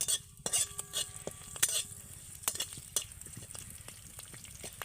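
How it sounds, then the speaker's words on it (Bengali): A few curry leaves fry lightly in a little oil. The sizzle is faint, with brief clinks and scrapes of a spoon against the pan. "এর মধ্যে দেব কয়েকটা কারি পাতা দিয়ে একটু তেলের সাথে হালকা করে ভেজে নেব"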